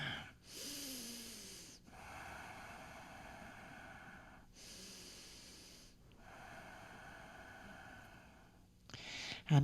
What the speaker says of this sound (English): Ujjayi breath.